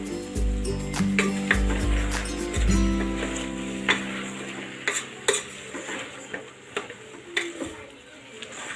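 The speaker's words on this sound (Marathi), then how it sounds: "आता हे सर्व मसाले आहे ना व्यवस्थित मिक्स करून घेतोय भाज्यांमध्ये" A spoon stirs spices, salt and a pinch of asafoetida into vegetables in a pan for veg biryani. A low humming tone comes first, then sharp metallic clinks and scrapes follow, spaced irregularly against a faint sizzle.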